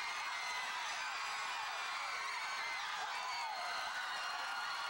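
A large, enthusiastic crowd at a County Line football game roars continuously, a dense distant wall of cheering and whoops with no breaks.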